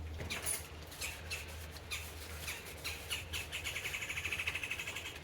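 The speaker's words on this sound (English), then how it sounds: "Shut up, bird." Pet bird squawking and chirping in a living room, a series of short, fairly loud calls that quicken into a rapid repeated run toward the end, over a low steady hum.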